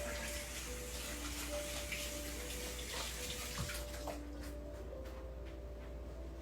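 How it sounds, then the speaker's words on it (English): Tap water runs steadily into a sink as hands are rinsed beneath it, a continuous close splashing wash with a few small clatters, in a home kitchen while a salad dressing is being made. "Let me rinse my hands off"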